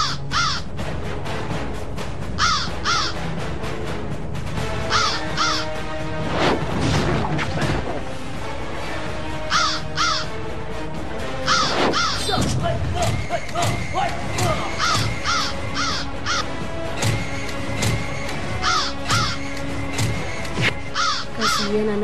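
Crows caw repeatedly in a TV drama scene, harsh calls recurring every second or two over a busy, clattering background with occasional crashes and a little talk.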